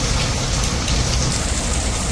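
Steady, dense rain showers falling on a garden, a continuous broadband hiss with no distinct drops or pauses, filling the whole stretch with no voices.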